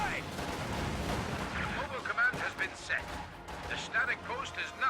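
Video game battle gunfire from a multiplayer match with Volksgrenadiers, with loud bursts and crashing shots that keep coming in a dense, uneven stream under steady commentary.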